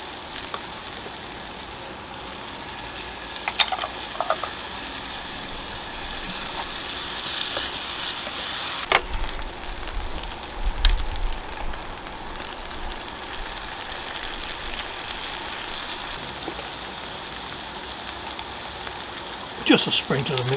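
Chopped onion and garlic frying in a pan: a steady, close hiss of sizzling oil, with a brief louder flare as food goes in and occasional stirring clinks, a voice speaking faintly at times.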